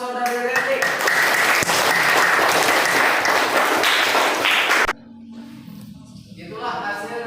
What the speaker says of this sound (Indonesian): Kasih aplaus untuk saudari Leti